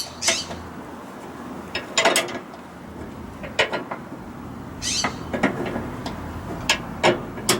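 A ratchet tightens a bolt on a Ford F150 radius arm bushing, giving short bursts of clicking with pauses between strokes, close and fairly clear over a quiet garage background.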